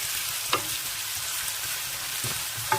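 Ingredients with salt fry in hot oil, giving a dense, even sizzle throughout, broken by a few soft clicks of a utensil against the pan.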